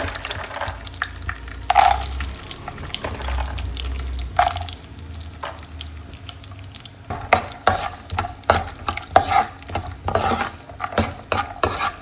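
Mustard seeds and peanuts sizzle in hot oil in a pan while a utensil stirs them, with scraping clinks, light crackles and bursts of pan noise growing more frequent.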